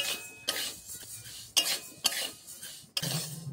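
Dry, large-grain sago pearls are stirred in an empty hot wok, the spoon scraping and rattling against the metal in a steady shuffling rustle, broken by a few sharper clinks, close up with no talk.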